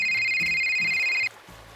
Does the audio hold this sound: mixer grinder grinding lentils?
no